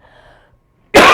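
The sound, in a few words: cough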